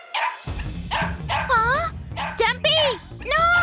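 A cartoon puppy in an animated Telugu kids' episode yips, barks and whimpers in several quick, loud bursts, close and bright, with short whiny rises between the barks.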